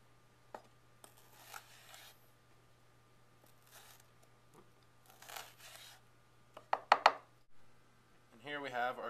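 Knife slicing food lengthwise into quarter-inch julienne strips on a cutting board: a few soft cuts early, then a cluster of sharp close chops and a final scraping rasp, with a steady low hum beneath.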